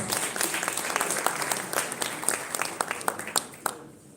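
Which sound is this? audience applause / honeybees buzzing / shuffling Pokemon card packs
audience applause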